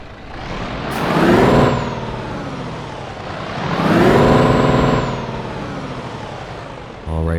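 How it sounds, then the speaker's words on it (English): Scania super truck in Euro Truck Simulator 2 with a loud engine rumble that swells twice, each time topped by a hissing burst, then settles into a steady idle. "let's go ahead and get our Scania started up and head off to Winterland"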